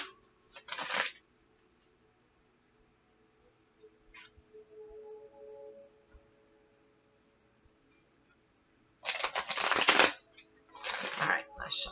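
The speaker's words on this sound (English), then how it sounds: "All right, last shuffle." Tarot cards are shuffled close by in a few quick riffling bursts, separated by quiet stretches with faint low murmuring.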